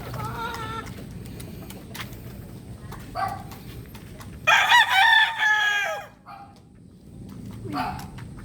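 White Kelso chickens cluck while a rooster crows loudly nearby in a short burst midway, with a dog barking briefly and farmyard background noise, no speech.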